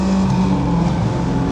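Race cars at Lime Rock Park roar on the restart after the green flag, with a loud, sustained engine drone and a steady pitch throughout, close by and without talk.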